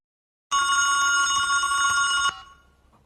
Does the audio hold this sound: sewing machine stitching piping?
no